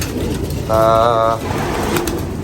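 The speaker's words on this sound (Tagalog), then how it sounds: "Mga kalapati natin, nagpapasukan na dito" A pigeon gives a low, throaty coo in one short phrase, heard close over steady background noise, among pet pigeons including a half sider.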